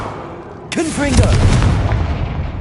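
A Confringo fire spell bursts in Hogwarts Legacy as a sudden loud, close explosion that rumbles on for more than a second. A voice speaks just as it starts.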